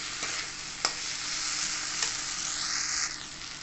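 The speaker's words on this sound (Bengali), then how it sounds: "আবার কষিয়ে নেব ভালো করে।" Fried kundru (ivy gourd) being stirred with spices and a pinch of sugar in a pan: a steady, close sizzle with a few sharp scraping stir strokes.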